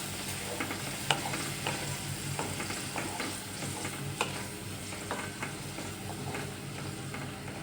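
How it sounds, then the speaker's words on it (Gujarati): Onion gravy for a corn curry is stirred in a pan over low heat, giving a continuous soft sizzle broken by scraping strokes and small clicks from the spoon against the pan, close and fairly quiet. "આવી રીતે હલાવતા રહેવાનું છે, નકર તમારી ગ્રેવી નીચે ચોંટી જશે."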